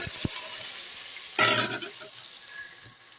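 Water is poured into a hot pot of fried cumin seeds for dal, bursting into a loud hiss and sizzle that slowly dies down, close up over a steady background hiss.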